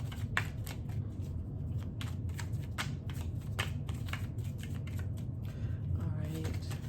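Tarot cards riffle and shuffle repeatedly in quick, crisp bursts close by, with a soft rustle between passes and no talking.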